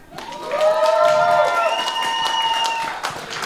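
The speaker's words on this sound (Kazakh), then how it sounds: "Қарағандыға шапалақтарыңыз" A wedding party crowd in Kazakhstan applauds and cheers for Karaganda, loud clapping and shouting that swells and holds for a few seconds, with a voice calling out over it.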